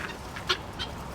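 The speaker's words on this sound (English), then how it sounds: "Come on, birds. Not you, Turks. Turks, we need you to go to the back of the run, okay?" Turkeys calling while being herded through a farm run alongside other birds, a few short honking calls at moderate distance over a steady outdoor background.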